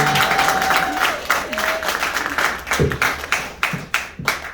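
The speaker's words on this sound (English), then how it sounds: "can I get a petty clap for me being here?" A crowd applauds with scattered, uneven claps that thin out into a few distinct single claps toward the end.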